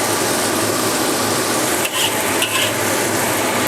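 A wok spatula stir-fries glutinous rice with preserved meat, giving a steady, close scraping and stirring rasp over a soft sizzle throughout, with two brief pauses in the motion.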